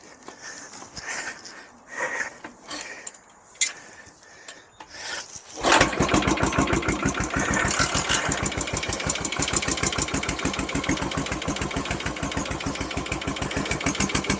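A Yamaha SR500 single-cylinder motorcycle is kicked over a few times with scuffing and clunks, then fires and settles into a loud, steady, fast-thumping idle close by.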